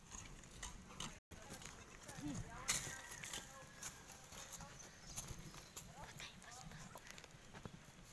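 A horse being ridden clip-clops its hooves in an uneven walking rhythm, fairly faint, while people chatter and exclaim over it.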